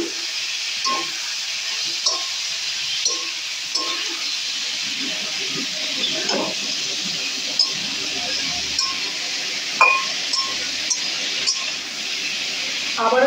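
Onions frying in a pan with a little water added, giving a steady hiss and sizzle with occasional clinks and stirring.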